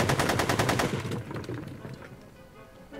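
Rapid automatic gunfire in a Back to the Future video game, a fast burst of evenly spaced loud shots that thins into a scattered, echoing rattle as it fades.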